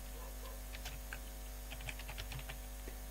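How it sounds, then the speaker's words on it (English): Quick light tapping on a computer keyboard, a quiet irregular patter of key clicks over a low steady hum, no voices. "let me just type here"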